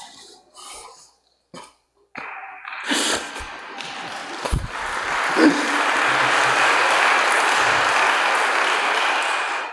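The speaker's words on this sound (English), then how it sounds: "I appreciate the applause." Applause from a congregation at a funeral Mass of Resurrection, rising after scattered coughs and a few isolated sounds, then swelling into a steady, sustained clapping that fills the church until the end.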